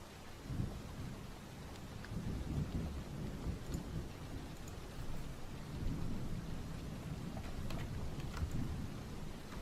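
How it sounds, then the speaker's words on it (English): Steady rain on a surface with low, rolling thunder rumbling through, a recording played for sleep, continuous and fairly quiet with occasional drips and crackles. "no ads, thunder, and rain sounds for sleeping."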